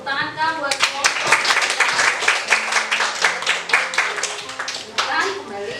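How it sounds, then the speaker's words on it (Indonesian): A class in a biology lesson claps for a group, with irregular, fairly close hand claps from several people, accompanied by voices talking throughout. "Tepuk tangan Kak buat kelompok."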